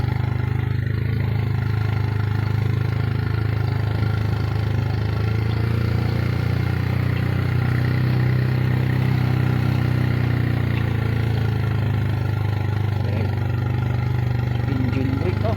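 Engine braking on a motorcycle descending a road gives a steady, droning low engine hum that stays constant throughout, with wind rush layered over it.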